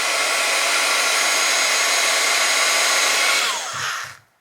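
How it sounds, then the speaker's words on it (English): A heat embossing tool, basically a small heat gun, blows a loud, steady fan-driven roar close up while heating a craft leaf, then switches off with a falling whine and a couple of soft knocks. "I have this heat embossing tool, which is basically a heat gun."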